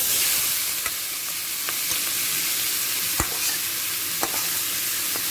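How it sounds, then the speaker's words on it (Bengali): Vegetables fry in oil in a large wok over a high gas flame, a steady close sizzle broken by occasional sharp taps and scrapes of a stirring utensil. "সবজিটা বড় কড়াতে দিয়ে দিলাম। হাই ফ্লেমে এবার ভেজে নেব।"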